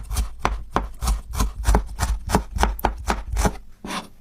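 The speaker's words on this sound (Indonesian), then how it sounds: "3 siung bawang merah diiris halus aja." A knife slices three shallots finely on a cutting board while preparing stir-fried water spinach in oyster sauce, giving a steady run of about a dozen crisp, close chops with a short pause near the end.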